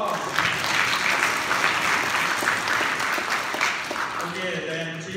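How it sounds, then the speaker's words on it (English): Applause from a church congregation at a Catholic Sunday Mass, steady and sustained throughout, fading slightly toward the end as a faint voice or tone enters. "Give him a big applause."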